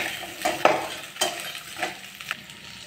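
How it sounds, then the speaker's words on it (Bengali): Onions and prawn legs fry together in a pan, a low sizzle broken by several scraping stirs and clinks of a spatula against the pan. "এবার একসঙ্গে সবগুলো ভালো করে ভাজবো"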